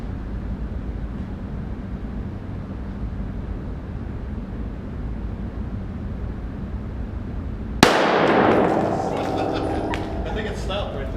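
A single sharp .45 caliber shot from a Beretta M1934 pistol is fired into ballistic gel, a loud sudden crack followed by a brief decaying ring over a steady background hum.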